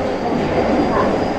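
Steady running sound of a Kintetsu 20 series train with Mitsubishi hybrid SiC-VVVF traction, on an express through-service between the Kyoto subway and Kintetsu lines toward Nara; continuous low rumble and broadband rolling noise heard from inside the car.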